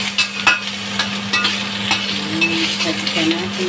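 Ginger and garlic frying in a pan for a beef stew with white radish, a close continuous sizzle with irregular stirring scrapes and a few utensil taps, plus a steady low hum underneath.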